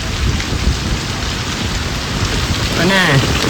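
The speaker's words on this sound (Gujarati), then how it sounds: "અહીંયા બધો વરસાદ ચાલુ થઈ ગયો છે." Heavy rain pours down in Patan during a storm, a loud, dense and continuous hiss with a voice briefly rising near the end.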